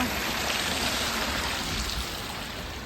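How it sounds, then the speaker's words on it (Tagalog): Rain falls steadily outdoors, a soft, even hiss that stays fairly faint and unbroken for the whole stretch, with no voices. "Ay nako, umuulan na day."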